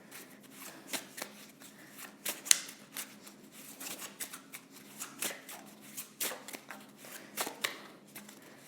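Emotion cards are shuffled by hand in a reading, making a series of crisp riffles and soft slaps that recur irregularly and close up, with no talking.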